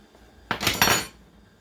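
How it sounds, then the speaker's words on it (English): A knife cuts through a roasted harissa potato in a hot pan, giving a short pair of scraping clinks of metal against the pan, close and clear, with no talking. "I'm just going to cut a little piece off of one"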